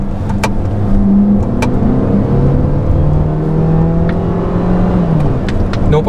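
From inside a SsangYong Torres AWD, the engine revs up under hard acceleration, its drone climbing in pitch, then dropping at each gear change, steady and loud throughout.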